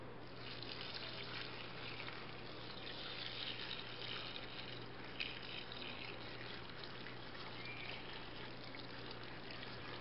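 Water poured steadily into a large pot on the boil for Trinidad sorrel juice, a continuous soft rushing trickle, faint and unbroken, with no voices.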